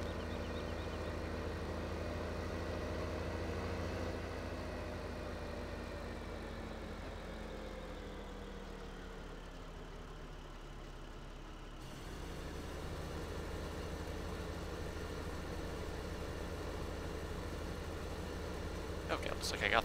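A tractor engine in Farm Sim 15 runs with a steady, low continuous drone that shifts slightly in pitch partway through, heard at a moderate level throughout with no gaps.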